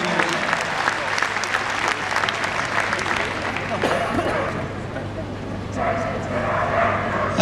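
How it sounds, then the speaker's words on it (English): Sustained applause fills the arena at the Crufts 2007 dog agility competition, a dense wash of clapping from a large crowd with a voice faintly mixed in. "Big round of applause."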